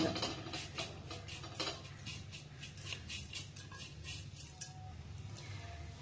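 Beef sambal dry-roasting on a mildly heated pan, with a steady run of metallic clinks and scrapes from stirring against the pan over a low, continuous frying hiss.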